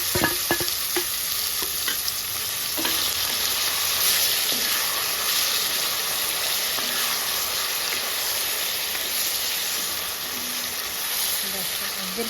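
Ivy gourd chutney is stirred into hot fried tempering in a pan, giving a steady loud sizzle and hiss with the scrape of a spoon throughout, and no one speaks.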